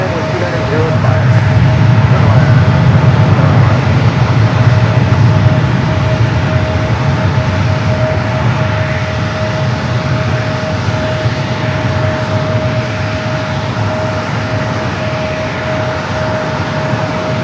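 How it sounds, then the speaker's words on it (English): Southwest airliner taking off from runway 27 at San Diego airport, a loud sustained jet engine roar swelling then easing slightly over many seconds, with a steady whine and radio talk over it. "runway 27, clear for takeoff"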